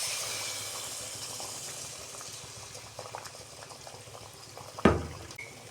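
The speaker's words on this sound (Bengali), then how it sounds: "আমি মালপোয়াগুলো ভেজে নিচ্ছি।" Malpua batter frying in hot oil, a steady bubbling sizzle throughout with a sharp louder crackle and splash near the end, close and alone.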